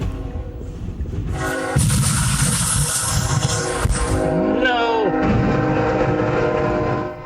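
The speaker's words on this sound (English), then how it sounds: "a train ploughed into a semi-trailer with an army tank on the back of it" A train rumbles past with a loud horn blast and grinding, screeching metal as it ploughs into a semi-trailer carrying an army tank at a South Carolina railroad crossing, the heavy noise sustained and close throughout.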